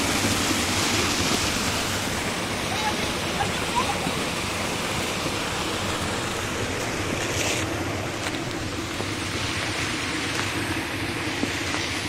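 Strong water rushing at a small rural dam reservoir in Goiabeira, a constant broadband roar with wind buffeting the microphone, no voices over it.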